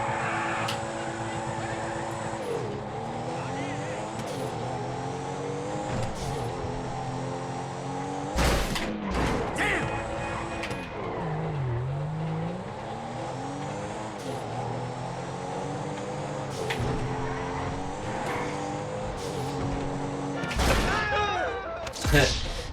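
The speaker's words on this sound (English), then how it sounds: "You can hear turbo, loud exhaust." A Grand Theft Auto V sports car engine roars and shifts with turbo whooshes and loud, crackling exhaust pops, steady and close throughout.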